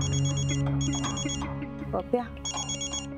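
A telephone rings during a scene in a Marathi TV serial, giving repeated bursts of electronic ringing with short gaps between them, while a voice speaks over the ring.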